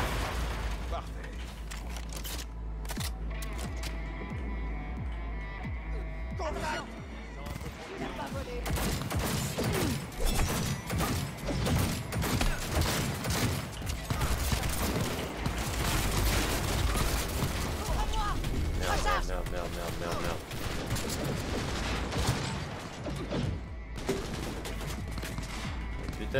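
Gunfire in a video game: sustained fusillades of shots and booms over about half a minute, loud and dense, with someone talking over the action.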